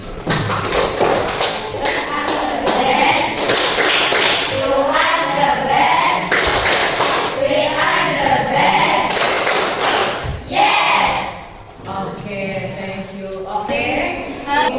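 A class of students claps together in a fast, steady rhythm in a classroom, loud and close, with sharp repeated slaps filling the whole stretch.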